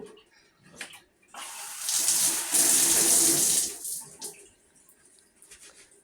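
Tap water runs and splashes loudly while an African net sponge is washed a second time in a sink, swelling into a strong rushing gush mid-clip before easing back to quieter trickles and handling noises.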